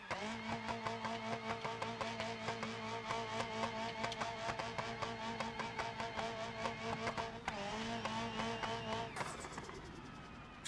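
A car engine revs hard and steadily in BeamNG.drive, a freshly broken-in motor on a car running with a flat tire, giving a loud, sustained, buzzing drone that shifts pitch near the end.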